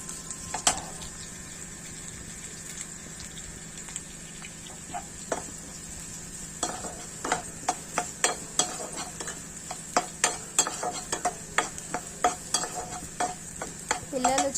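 Onions and green chillies frying in a pan for paneer fried rice, a soft steady sizzle under repeated close scraping and stirring taps that grow more frequent toward the end.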